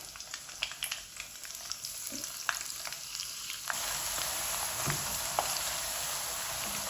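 Spinach leaves dipped in batter fry in hot oil in a home kitchen, a steady close sizzle with scattered pops and crackles that grows denser and louder halfway through.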